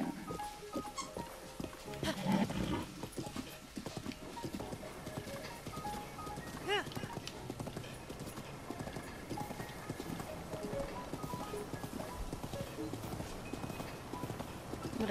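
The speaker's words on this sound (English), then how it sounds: "What a beautiful steed." Horse hooves clip-clop steadily through a long stretch of galloping in the video game The Legend of Zelda: Breath of the Wild, with a person talking over the continuous hoofbeats.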